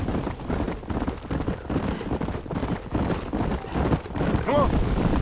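A horse gallops in Red Dead Redemption, its hoofbeats pounding in a rapid, continuous rhythm, with a brief whinny near the end and a faint voice mixed in.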